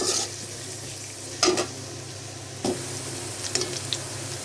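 Onions fry in oil in a pan for a rohu fish curry with pointed gourd, giving a steady, close sizzle with a couple of louder bursts of crackling and scraping from stirring.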